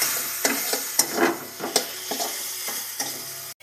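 Spice paste with chicken pieces frying in a wok, a steady close sizzle broken by repeated scraping stirs at an uneven rhythm, with no voices.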